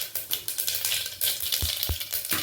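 Mustard seeds splutter in hot oil, a run of sharp crackling pops and sizzling bursts at an uneven rhythm, close and fairly loud, with a few duller knocks near the middle and no voices.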